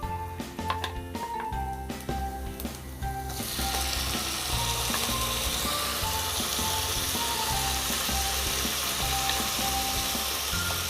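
Corned beef frying with garlic in a pan breaks into a loud, steady sizzle about a third of the way in and keeps going, with soft background music underneath.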